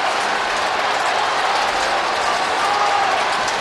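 Crowd at an Australian football match between Melbourne and Fremantle roaring after a score, a dense, sustained wall of cheering and clapping that stays loud and unbroken throughout.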